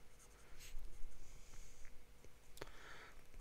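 A Scribo fountain pen with a wet medium 14-karat gold nib, filled with blue-black ink, scratching out an ink swatch on paper: soft, close scribbling strokes in irregular bursts with a small tap near the end, quiet and with no talk.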